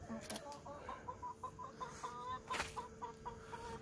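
Chickens cluck in a repeated, bobbing rhythm close by at a rural home, with a few sharper calls and someone talking over them.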